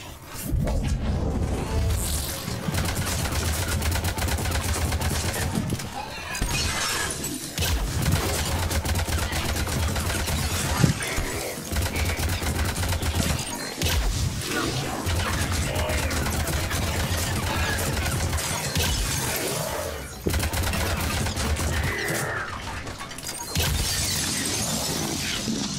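Dense, continuous gunfire from a firing squad in the sci-fi shooter Mass Effect 3, loud rapid rattling bursts with brief gaps, mixed with explosions and a voice talking underneath.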